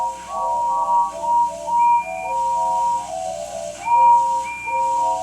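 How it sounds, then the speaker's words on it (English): Steam engine whistles in a children's railway story sound in overlapping tones, several blasts layered and repeating over about five seconds, loud and steady with no talking; the cheers are not distinct. "the rest of his speech was drowned in a delighted chorus of cheers and whistles"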